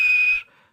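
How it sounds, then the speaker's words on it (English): Steam locomotive whistle on a model railway engine, a single short, clear, high-pitched blast that cuts off quickly. "And he blew his whistle."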